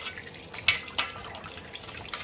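Tap water runs into a kitchen sink over raw oxtail being rinsed, a soft steady trickle with a few light splashes and drips, fairly quiet and close.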